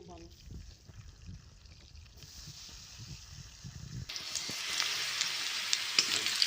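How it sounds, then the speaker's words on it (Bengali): A voice talks at first, then a bright hissing sizzle of potato and pumpkin frying in oil swells up and continues loudly to the end. "আলু আর কুমড়ো একসাথে ভেজে নিলাম"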